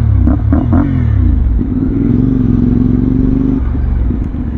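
Motorcycle exhaust note from a 450 adventure bike with a V-twin-like character, loud and close, with a few quick throttle blips followed by a sustained rising rev and a steady droning hold before it eases off.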